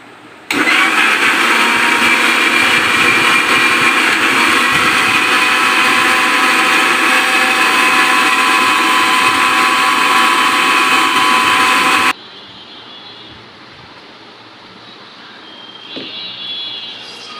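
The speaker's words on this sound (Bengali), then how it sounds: "এখন আমরা এটাকে ব্লেন্ড করছি।" A blender whirs loudly and steadily for about twelve seconds while blending pumpkin juice, then cuts off abruptly, leaving quiet room sound with faint clinks.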